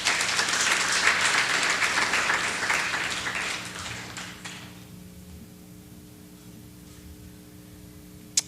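Audience applause at a New School talk welcoming Ivan Morison to the stage: dense clapping for about four seconds, then tapering off into a quiet room hum with a sharp tap at the very end.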